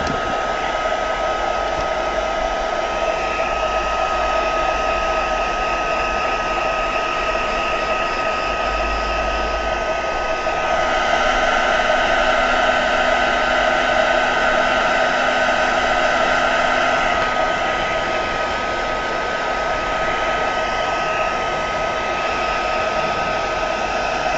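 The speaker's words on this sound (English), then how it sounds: "Right, heat gun." Heat gun blowing on crafting tissue to dry it, a loud, constant airy roar close by that runs steadily throughout with slight shifts in tone and nobody speaking.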